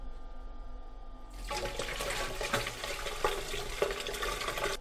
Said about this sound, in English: So let's pour it into the brine well now.